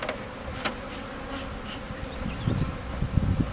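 Honeybees buzz around a group of five hives at an industrial packaging site in Trois-Rivières, a steady close droning hum with individual insects zipping past the microphone, no voices present.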